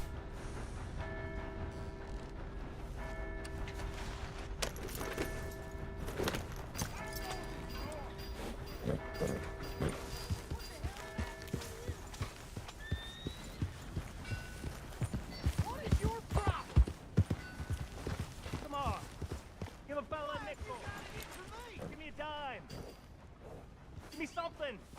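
Horse hooves in Red Dead Redemption 2, a rhythmic clip-clop of a ridden horse beneath game music and spoken dialogue, growing louder and faster toward the middle before easing.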